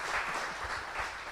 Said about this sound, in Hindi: तो रामनाथ भाई जी के लिए भी एक बार ज़ोरदार तालियां हो जाएं।